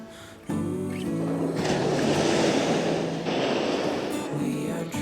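Beach waves and wind on the coast at Landguard Fort, Felixstowe: a steady wash of surf and gusty wind noise rising after a brief quieter start, continuous and fairly close.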